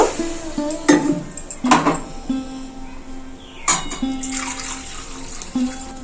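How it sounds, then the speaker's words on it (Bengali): Three bowls of water are poured into a cooking pot for a pilau made with khoa kheer, arriving as three separate splashing bursts with clinks of the bowl against the pot between them. "তিন বাটি জল দেওয়া হয়ে গেল"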